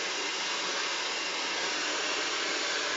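A salon-style hair dryer blows continuously at full power during a blow-dry held above the head, a loud steady whoosh close by with no talking.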